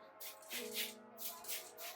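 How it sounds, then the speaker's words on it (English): Repeated hiss bursts from a spray bottle misting a section of hair during a blowout and trim, several short sprays close by with a faint steady hum underneath. "I'm just gonna go to this section and just spray it."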